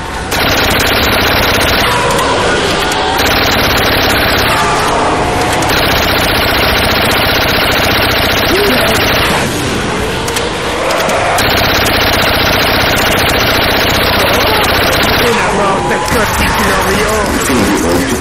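Rapid automatic gunfire from a weapon in the Call of Duty Black Ops zombies mode on the Der Riese map, loud and dense bursts filling the clip with brief gaps, mixed with game noise.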